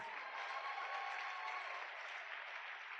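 Church congregation clapping and cheering during a French-language sermon, a steady dense wash of applause sustained throughout, moderately distant with no speech over it.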